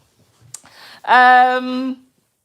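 A single drawn-out kitten meow, close and fairly loud, lasting about a second with a steady tone, preceded by faint rustling.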